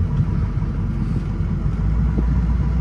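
A 2007 Ford F-250 with a 6.0L Powerstroke diesel, in four-wheel-drive low, power braking: a steady, loud low diesel rumble holds throughout with no clear rise or fall.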